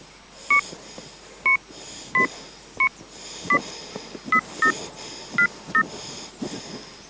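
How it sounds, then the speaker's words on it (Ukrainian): A telephone number is dialed, giving nine short, clear keypad beeps at an uneven pace over a low background hum, with no one speaking. "Телефонуємо у міську інспекцію із благоустрою."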